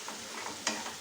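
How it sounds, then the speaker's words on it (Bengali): Chicken frying in a kadai while being turned, a steady bright sizzle with a soft scrape of the spatula partway through, close and unaccompanied by voices. "চিকেন দিয়ে ভালো করে নেড়ে"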